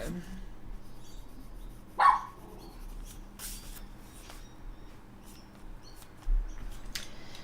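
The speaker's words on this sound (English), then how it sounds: "Apologies, you can hear the dogs in the background." Two short dog barks in the distance, a few seconds apart, over a low steady background hum.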